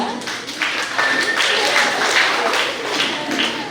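Audience applause at a Dasara temple stage program after a mind-reading performance, a steady dense wash of clapping that holds at a fairly loud level throughout.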